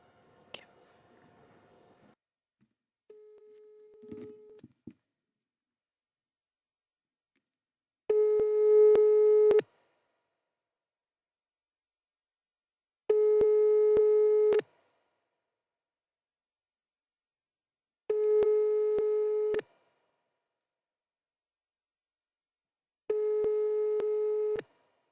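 A telephone busy signal on a phone call repeats as four evenly spaced, steady tones about five seconds apart, each lasting over a second, after some faint whispering and handling noise at the start.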